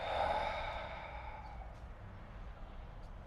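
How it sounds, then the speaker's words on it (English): A deep, full breath is slowly released during a guided voice-healing relaxation. The airy exhale starts loud and close, then fades gradually over a few seconds, with no talking. "Deep and full breath in, and releasing breath out."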